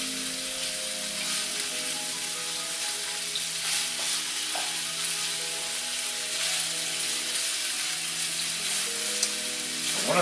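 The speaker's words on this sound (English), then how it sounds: "this seafood's cooking really quick." Seafood sizzling in a pan for a vodka sauce with fresh pasta, a steady bright frying hiss with faint stirring clicks, continuous and close.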